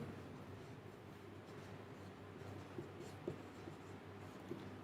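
Pen or chalk writing a definition by hand during a Hindi grammar lesson, soft scratchy strokes with a few light taps, faint and close with no talk.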